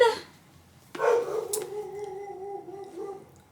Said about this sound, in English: that's my dog going off